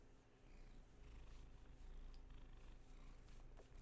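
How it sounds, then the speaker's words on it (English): A huge tabby cat purring close up, a steady low rumbling purr that runs unbroken and fairly quiet, with no voices over it. "he's a tabby cat"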